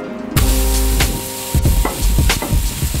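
A rib of marbled wagyu beef sizzles loudly in a hot pan, broad frying crackle swelling in bursts with sharp spits and stirring noises, up close with no talk.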